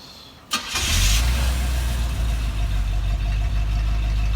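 A custom car's engine cranks with a sharp catch, then settles into a steady, loud, deep idle rumble up close before a test drive around a parking lot.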